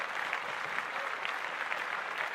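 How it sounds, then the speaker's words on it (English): Audience applause on a podcast: a steady, even wash of clapping from a small group, moderately faint and with no talk over it. "we could start off with giving a round of applause to Kyrie Irving and his pops"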